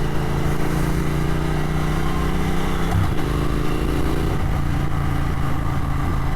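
Triumph Thruxton R motorcycle engine running steadily during a ride, a loud continuous low rumble with engine harmonics and wind noise, briefly dipping around the middle before holding a constant drone.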